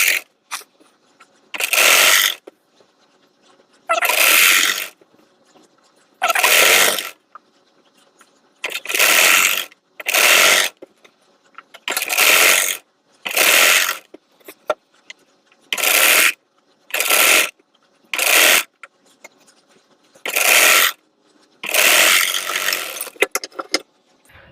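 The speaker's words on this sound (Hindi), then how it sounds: "तो यहाँ से 1/2 इंच जितना सिलाई लगाना स्टार्ट करेंगे।" A sewing machine stitches a blouse seam, running in a dozen short, loud rattling bursts of a second or two each, separated by quiet pauses, all close up.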